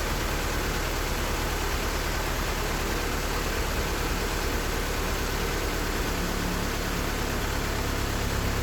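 A steady, even car engine hum, idling down, runs continuously with a broad hiss over it, unchanging and close, with no other sounds.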